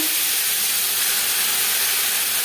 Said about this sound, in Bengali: পনেরো কুড়ি সেকেন্ড পাঁচফোড়ন তেজপাতা ভেজে নেওয়ার পর দিয়ে দেবো